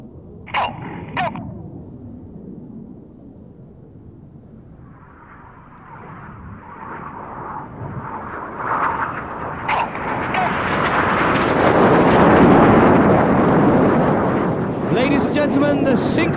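Red Arrows synchro pair jets descending toward the runway for double rolls at an air display, a broad jet roar swelling from a distant rumble to a loud, sustained rush over open airfield ambience.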